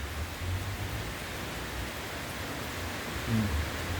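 Steady, dense rain pours down in a continuous hiss, a rainy-season downpour heard outdoors with no voices.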